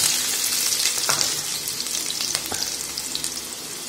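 Oil in a kadhai sizzling steadily and loudly up close, with stirring scrapes and crackles as food fries for a bachelor-style veg Manchurian sauce.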